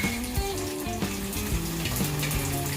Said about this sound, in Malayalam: കടുക് പൊട്ടി വരുന്നോടെ നമുക്ക് ഇഞ്ചി, വെളുത്തുള്ളി, ചെറുള്ളി